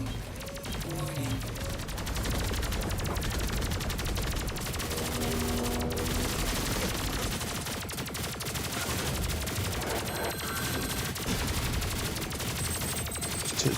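Explosions and rapid gunfire from the Terminator 2D: No Fate video game, dense and loud for the whole stretch, with bursts of shots and booming blasts layered over game music.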